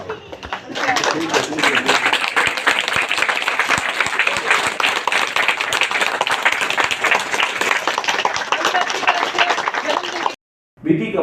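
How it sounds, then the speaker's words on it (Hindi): Sustained applause from an audience at a district gathering: a dense, steady roar of many hands clapping close by, which cuts off abruptly near the end before a brief final burst. "तालियां में कंजूसी मत करो भैया।"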